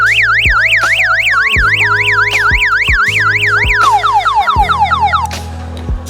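A homemade alarm-system siren from Africa wails in rapid rising and falling electronic sweeps over repeated low tones, then shifts to a slower descending pattern before cutting off; loud and close, with no talking.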